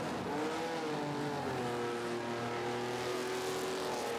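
Classic race cars pass on the Le Mans Classic circuit, a steady, dense engine roar with shifting pitch, fairly distant and continuous, with no talking.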